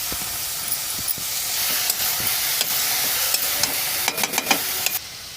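Boiled banana flower with ginger and slit green chilies frying in a pan, a steady close hiss and sizzle with scattered clinks of a utensil stirring, growing busier near the end.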